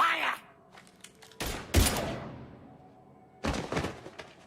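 Gunfire in the video game Mass Effect 3: sharp, loud shots and thumps in short bursts, with a heavy blast near the middle and another burst toward the end, separated by decaying echoes.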